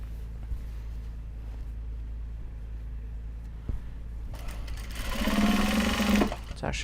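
A sewing machine runs close and steady as it stitches fabric, its motor hum speeding up into a louder, brighter whir near the end, alone without talk.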